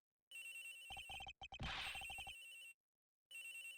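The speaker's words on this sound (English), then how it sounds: "The ringing's coming from in here!" A loud phone rings from inside a locker in the Ace Attorney Investigations game, a harsh electronic trill in repeated bursts with short silent gaps, alone and close.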